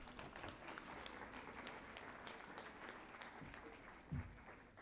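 Audience applause at a 2017 Jamaica diaspora conference: a steady, faint wash of clapping from a crowd that holds throughout, with one brief louder knock near the end.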